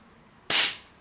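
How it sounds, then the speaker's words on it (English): An AAP-01 airsoft pistol fires a single sharp, snappy shot midway through a quiet indoor moment, loud and close, with a short decay. "Let me shoot one over here. Hopefully it's not full auto."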